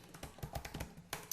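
Rapid typing on a computer keyboard, close and fairly quiet, with a quick run of about a dozen uneven clicking keystrokes.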